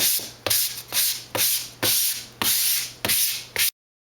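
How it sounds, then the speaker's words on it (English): A foam wing core for a composite plane sanded by hand, seven even rasping strokes in a steady back-and-forth rhythm, close and loud, each stroke a bright gritty hiss, ending abruptly in silence. "I just kind of sand it down"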